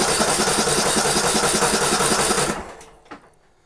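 Cranking on a cold 2018 Pony engine that has sat for days and refuses to start: a steady mechanical churning for about two and a half seconds, then it stops with a brief clunk near the end.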